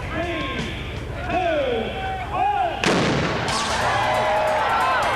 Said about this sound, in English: That was a muzzle loader, which was used for the very first time to start the races this year.